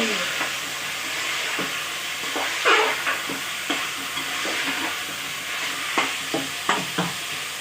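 Potatoes sizzle in hot oil as they are sautéed and stirred in a pot for chicken pulao; a constant close hiss is broken by scraping strokes of the spoon.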